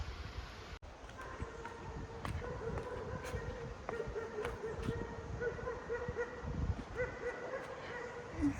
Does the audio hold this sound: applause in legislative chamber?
no